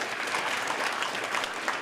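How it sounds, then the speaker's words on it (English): Dense, even applause from an audience at a speech night competition event, a brief moderate burst of many hands clapping together. "So let's give them a round of applause"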